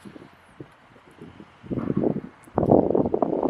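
Wind gusts swelling outdoors, rising in two broad surges after a quiet start, with rustling and buffeting against the microphone growing louder toward the end.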